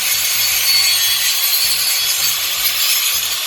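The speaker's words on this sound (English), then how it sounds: "just sharpen that blade. Get it nice and sharp." A blade being sharpened, heard as a loud, steady, harsh grinding rasp that carries on without a break for the few seconds.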